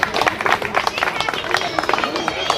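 An audience at a women's club Amrit Mahotsav celebration claps for a retired chief engineer being honoured, with many sharp, close hand claps in a brisk irregular patter while voices chatter through the crowd.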